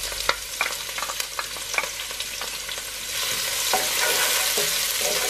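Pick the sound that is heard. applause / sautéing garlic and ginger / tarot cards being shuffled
sautéing garlic and ginger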